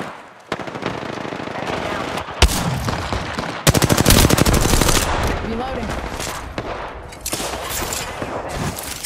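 Dense automatic gunfire in the video game Apex Legends, with sustained bursts and sharp single shots cracking loudly and close, overlapping throughout with brief lulls between volleys.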